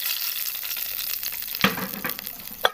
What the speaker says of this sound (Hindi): अब हम लगा देते हैं इसको तड़का यानी बिगार